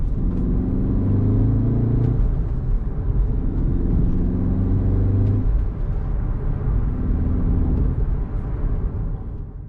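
Manual car accelerating with three quick upshifts, each gear a rising engine drone that cuts briefly at the shift, steady cabin rumble throughout, no talking.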